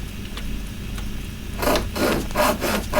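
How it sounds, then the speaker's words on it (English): A wooden chair is sawn in a video game, The Book of Unwritten Tales. After a quiet stretch, a series of loud, rhythmic rasping saw strokes follows, close and with no speech over it. "And if that beast catches me sawing..."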